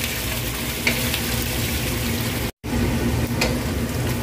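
Pork ribs fry in melted sugar in a pan, giving a steady close sizzle and crackle with occasional stirring scrapes and a brief dropout midway.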